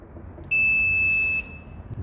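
A UTL 2500VA 24V solar inverter gives one steady, loud electronic beep of about a second as it switches into UPS mode, standing clear above a low background hum.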